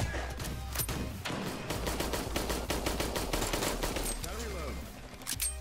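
Rapid gunfire in a shooter video game, America's Army: Proving Grounds, with bursts and single shots crackling continuously and loudly through the whole stretch, a voice briefly heard among the shots.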